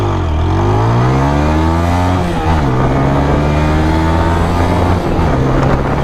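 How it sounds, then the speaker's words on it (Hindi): A 160 cc Bajaj Pulsar N160 or TVS Apache RTR 160 4V motorcycle accelerates hard from first gear in sport mode. The close, loud engine note climbs steadily in pitch, drops at each of two gear shifts, then rises again. "चलिए अब चलते हैं इसकी एक्सेलरेशन टेस्ट पे"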